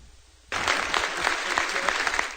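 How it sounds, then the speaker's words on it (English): Polite applause greets Rex Tillerson as he enters the State Department, beginning abruptly after a quiet start and continuing as a steady, moderate patter of many hands. "Rex Tillerson enters the State Department to polite applause"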